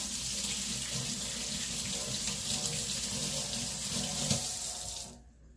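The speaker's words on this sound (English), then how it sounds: "Let me rinse my hands." Kitchen tap running steadily into a sink while hands are rinsed, a close, even rush of water lasting several seconds before the flow shuts off abruptly near the end.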